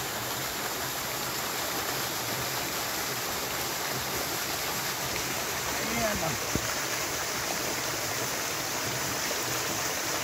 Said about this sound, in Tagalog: Mataas na rin po na falls yan no?